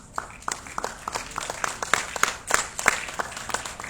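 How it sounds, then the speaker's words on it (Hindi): An audience at a university conversation event applauds with moderate, fairly sparse clapping, individual claps distinct and irregular, heard from within the hall. "तालियां इतनी मध्यम अभी से पड़ जाएंगी तो कैसे काम चलेगा"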